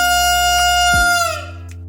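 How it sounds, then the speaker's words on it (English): A homemade whistle made from a syringe with a piece of balloon taped over its top gives a steady, buzzy, reedy tone that holds for about a second, then sags and falls in pitch as the breath runs out. "Blow into the syringe, you've made a fun whistle."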